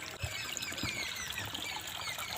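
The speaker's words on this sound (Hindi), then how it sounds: "ये जा रहा है खेत में पानी" Irrigation water pours and trickles steadily into a village rice paddy where the grain is beginning to head, a close, continuous splashing flow with no talk.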